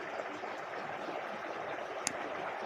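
Well water in Totnes pours from three spouts into troughs, making an even, continuous rushing splash close by, with one brief sharp click near the end.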